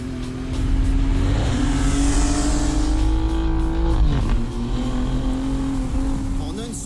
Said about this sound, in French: on entend le son du moteur qui se reflète sur les murs